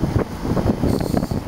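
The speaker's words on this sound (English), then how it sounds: "we got a wind gust of about 20," Wind gusts during Hurricane Ike buffet the microphone in rough, uneven bursts, loud and close, with no other clear sound.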